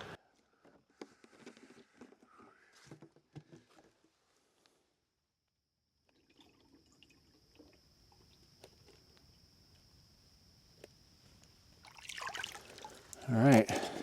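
Dark, tea-coloured Florida swamp water being collected into a container: scattered faint drips and trickles, a quiet stretch with a thin hiss, then a louder burst of splashing and pouring near the end.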